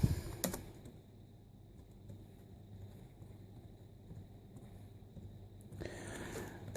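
Faint, soft key clicks come from a Compaq Evo N600C laptop keyboard as a name is typed, set against a low hiss, with a sharper tap near the start and another near the end.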